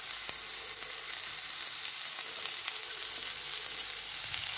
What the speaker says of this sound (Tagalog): magigisa lang tayo ng ano ha? Spinat!